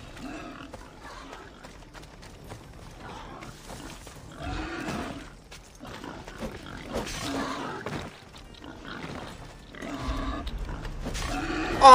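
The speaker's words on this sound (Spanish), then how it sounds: "Odio a los cerdos de este juego." Pigs and boars in the video game Assassin's Creed Odyssey grunt and snort repeatedly in uneven bursts, fairly close and loud, with a final sharp thump at the end.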